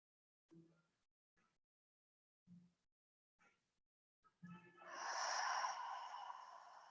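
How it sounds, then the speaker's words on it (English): Slow, soft breaths during a vinyasa yoga flow: a few quiet nasal exhales spaced apart, then one long, full breathy exhale that swells and trails off, close and gentle. "Full, complete exhales."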